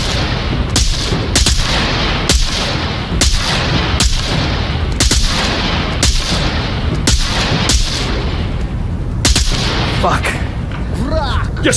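Gunfire in the VR tactical shooter Onward, a series of loud sharp gunshots cracking at irregular intervals, some in quick pairs, with a voice speaking between them.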